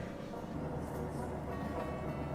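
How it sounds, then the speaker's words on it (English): A Lisbon trolley tram in Portugal rolls past with a steady, loud, low mechanical rumble and rail noise that fills the whole moment. "Check out the trolley. Trolley's in Lisbon, Portugal."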